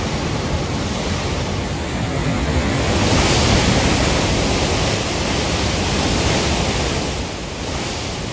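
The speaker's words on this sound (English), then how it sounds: "watching them open the dam and watching the waves crash" Water surges through the opened dam on Pomme de Terre Lake, Missouri, as a constant broad roar of crashing waves that swells slightly in the middle and eases near the end, with no voices.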